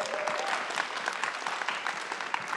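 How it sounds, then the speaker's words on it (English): A live audience gives a brief round of applause, a dense patter of many hands clapping evenly throughout with no voices over it. "One more time. Round of applause."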